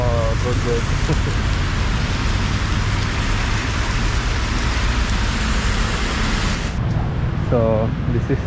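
Heavy rain falls on a street in Chow Kit in a loud, continuous roar of drops on hard surfaces, with a brief voice heard near the start and again near the end.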